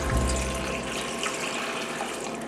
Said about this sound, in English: Let's pour this water into the green beans.